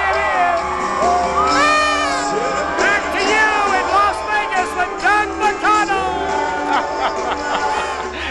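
A big crowd at a live Las Vegas New Year's Eve show cheers loudly and continuously, with whoops, shouts and high yells rising over a dense roar.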